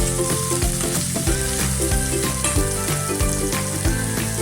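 Paneer pulao ingredients sizzle loudly and steadily in a hot pan, a dense continuous frying hiss with faint stirring clatter and no voices.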